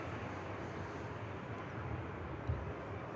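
Saudia airliner taxiing at Manchester Airport, a steady far-off jet engine rumble and hiss at low level with no distinct peaks.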